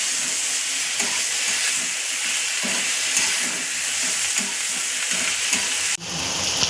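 Tomatoes with salt frying in a pan, a loud continuous sizzle and crackle with faint stirring, close up and steady, with no talk.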